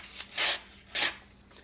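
A Berg Blades folding knife, made by Reate, slicing through material in two short rasping strokes, close and crisp against a quiet background.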